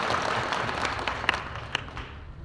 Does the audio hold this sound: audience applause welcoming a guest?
yes